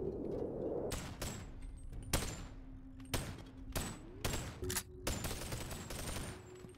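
Exploding bullet gunshots in the VR video game Boneworks: a string of sharp, loud blasts fired at irregular intervals, roughly seven over several seconds, each with a quick bright crack and rumbling tail over a steady background hum.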